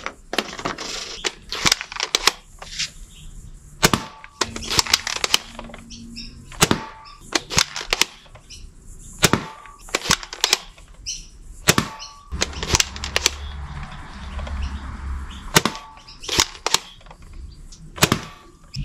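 A Nerf Fortnite HC-E blaster fitted with a 12 cm barrel fires short darts as a string of sharp, close snaps at an irregular pace, with softer handling clicks between the shots.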